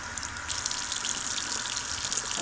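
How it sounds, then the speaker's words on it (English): Makeup brushes rinsed one at a time under a running tap, a steady close hiss of flowing water splashing into the sink without a break. "So I'm just going to go ahead and rinse them off."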